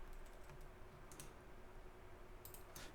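Computer keyboard typing while entering code for a Spring Boot MyBatis project, with a steady run of soft, close keystrokes and a few sharper clicked bursts, no talking.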